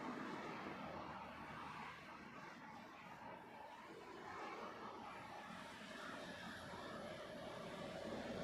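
A Boeing 747 landing at London Heathrow Airport, a faint, distant, steady jet roar and rumble that swells gently and holds throughout, with no voices.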